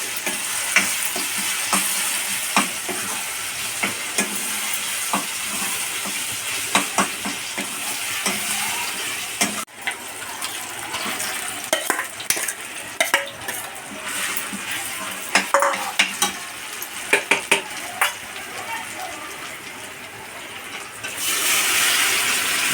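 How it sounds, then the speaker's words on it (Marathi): Onion and tomato with garlic paste frying in a pan for homemade pav bhaji, a constant close sizzle broken by repeated spatula scrapes and knocks against the pan, with the frying swelling brighter near the end. "इथे कांदा टमाटरला चांगला शिजून द्यायचं आहे मस्त आपण याच्यामध्ये गार्लिक पेस्ट ॲड केलेली आहे"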